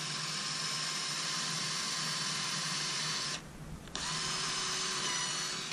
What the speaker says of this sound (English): But we do need to drill a 3/16-inch hole.